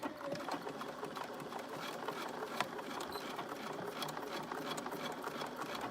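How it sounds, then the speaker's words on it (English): Sewing machine stitching a fabric seam with back stitching at start and end, running as a steady, close mechanical whir and rapid needle patter through the whole stretch, with no talking. "We're going to back stitch at the beginning and end, but we're going to come down the one side, turn along the bottom, up the top."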